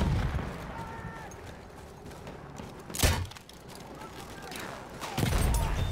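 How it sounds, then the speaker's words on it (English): Machine-gun fire in the Battlefield 1 video game: a couple of sharp, loud gunfire bursts, around the middle and near the end, rise above a busy battlefield background, with voices mixed in. "Machine gun over there."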